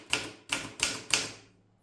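An Erika 60 manual typewriter with a Polish typeface clacks through four evenly spaced, sharp keystrokes up close, the last ringing out briefly into quiet.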